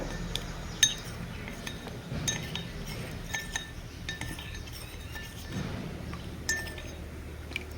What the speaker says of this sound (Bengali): কর্নফ্লোরটাকে আমি ভালোভাবে মিক্স করে নিব